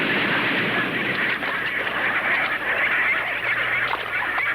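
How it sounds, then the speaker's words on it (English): Rockhopper penguins call continuously at a desolate breeding rookery near Tierra del Fuego, Argentina, a dense, steady chorus of harsh honking and braying voices filling the scene with no pauses. "These rockhopper penguins flock each year to this desolate rookery near Tierra del Fuego, Argentina, to hatch and care for their young"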